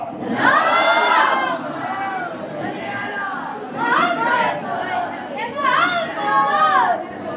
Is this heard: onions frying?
no